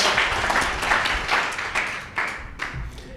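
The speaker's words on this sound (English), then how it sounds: "Awesome, round of applause." An audience applauds after a startup pitch at a demo day contest, producing a sustained wash of many hands clapping that gradually thins toward the end, heard close and fairly loud.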